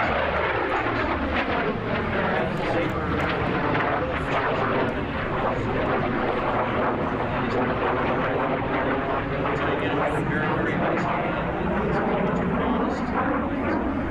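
A North American F-86 Sabre jet roars through an airshow demonstration, a loud, continuous broadband engine rush that sweeps in pitch as it passes, with a commentator talking over it throughout.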